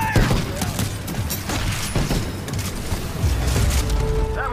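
Gunfire in the Titanfall video game, dense bursts of shots and booms layered over each other, loud and continuous through the battle with a faint voice underneath.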